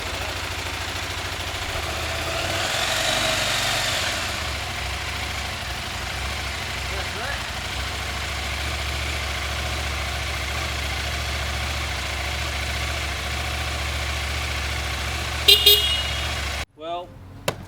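A KTM 890 motorcycle engine fires up and settles into a steady, low, throbbing idle close by, running evenly until a few sharp clicks and a sudden cutoff near the end.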